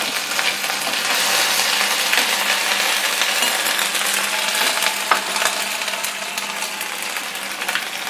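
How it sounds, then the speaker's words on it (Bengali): Ginger, both paste and small chopped pieces, sizzles in hot oil with cumin seeds in a pan for amla pickle, a steady close frying hiss with occasional sharp crackles and pops and no talking. "আদাটা একটু ভালো করে ভাজতে হবে"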